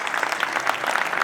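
Dense, steady applause from a standing concert audience honouring a Neapolitan singer, a brief close burst of many hands clapping at once.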